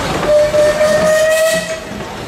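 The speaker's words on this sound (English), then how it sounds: "What's the whistle sound like?" A loud, sustained steam whistle at a steam power show sounds a single long blast over a background hiss, then fades out.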